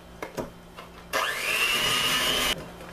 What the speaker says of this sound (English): add my sugar, my white sugar, and my light brown sugar, and blend these together till they're real smooth